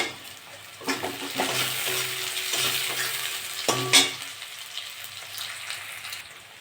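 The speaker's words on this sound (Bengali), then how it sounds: "পেঁয়াজটা একটু ভেজে দেবো" Onions frying in a pan after cumin for a fish curry, a steady sizzle with bursts of spatula stirring and scraping, a clatter near the middle, fading quieter toward the end.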